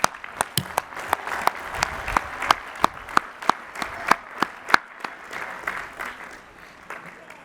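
Clapping rings out at a university commencement ceremony for Bachelor of Science degree recipients, a sparse run of sharp, distinct claps over a softer bed of wider applause that thins toward the end.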